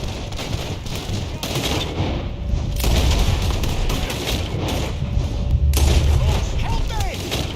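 Gunfire in Red Dead Redemption 2, a dense run of shots and booms layered over game noise and ambience, loud and continuous across the whole stretch, with a voice shouting in among it.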